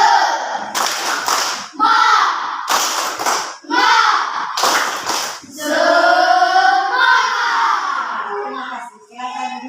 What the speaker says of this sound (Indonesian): Terlebih dahulu Ibu mengajak kalian melakukan tepuk semangat.